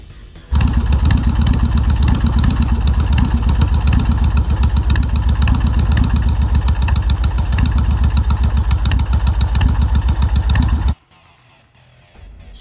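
A Shovelhead chopper motorcycle engine (FXR/FLT) runs loud and close with a steady, throbbing, lumpy rhythm for about ten seconds, then abruptly cuts off into near silence.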